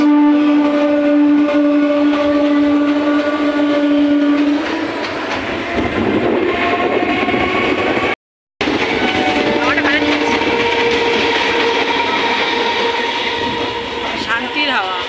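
Trains passing through a railway station, a loud sustained rumble of carriages with screeching metallic tones and a horn, continuous throughout with a brief cut midway.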